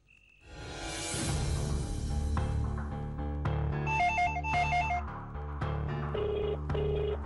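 A telephone rings with a repeated electronic trill in a Telugu TV serial scene, sounding over a loud musical background after a rising swell.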